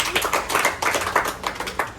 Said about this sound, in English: Give group 1 a clap again.